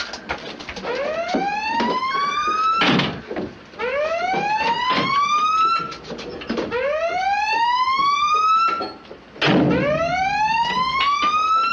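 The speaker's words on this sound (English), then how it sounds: "Sound collision alarm." Submarine collision alarm from the 1958 film Run Silent, Run Deep: loud rising electronic whoops repeat in a steady cycle, with sharp clanks and bangs between them.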